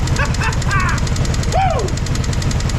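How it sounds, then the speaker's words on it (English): A 1964 Jeep CJ5 engine, recently freed from being stuck, idles with a rapid, even mechanical chatter, loud and close, while a voice exclaims briefly over it. "Listen to this thing. It's idling like a top."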